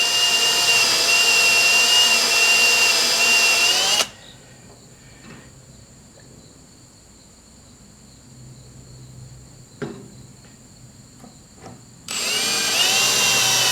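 A loud, steady power drill whines for several seconds drilling metal at an angle while mounting a sawmill hydraulic tank, stops for a quiet pause with faint clicks, then starts whirring again.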